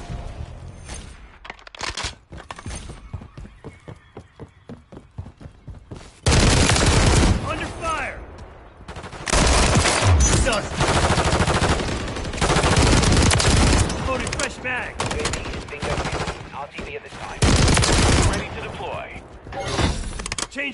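Sustained automatic gunfire rattles loud and close in a Call of Duty Modern Warfare 3 multiplayer match on the Bait map, coming in long heavy bursts separated by lighter rapid shots, with a voice speaking at times over it.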